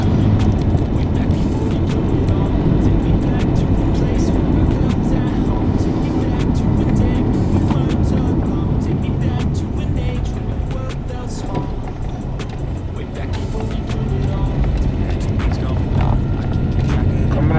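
A car drives along a rough stretch of Nairobi's Western Bypass toward Gitaru, heard as a loud continuous rumble of engine and road noise from inside, steady throughout with brief rattling bumps.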